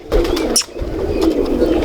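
A Lal Pari pigeon coos close by, a low throaty call, twice with a short pause between, with faint background noise.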